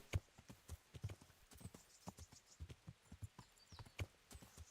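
A horse's hooves clip-clop steadily in the medieval game Kingdom Come Deliverance, a regular close rhythm of soft thuds with faint background ambience.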